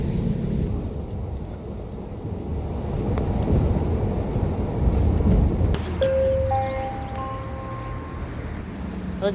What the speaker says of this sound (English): Now I'm on a bus.